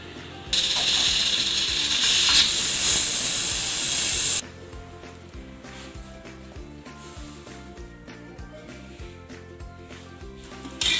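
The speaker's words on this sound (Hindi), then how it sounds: "इसे प्रेशर कुकर में 15 मिनट तक चला लूँगी" A sharp, loud hiss of steam bursts from a pressure cooker cooking mutton for about four seconds, then cuts off, leaving a quieter rhythmic rattling and clicking in the background.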